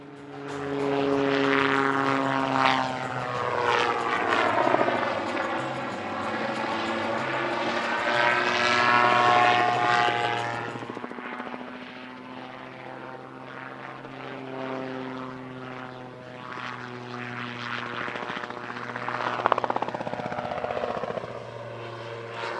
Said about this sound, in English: Rotorsport Calidus, a very fine example of the modern autogyro